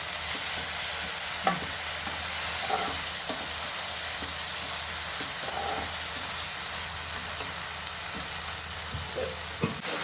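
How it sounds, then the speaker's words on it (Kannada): Sprouted gram tempering, with chili powder and masala added, fries in a pan in a steady close sizzle, with a few soft stirring knocks now and then. "ಒಗ್ಗರಣೆಯಲ್ಲಿ ಫ್ರೈ ಆಗ್ತಾ ಇದೆ."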